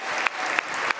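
An audience applauds at a Freestyle Chess Grand Slam event in Las Vegas: steady, dense clapping fills the whole second, with a few sharper claps standing out.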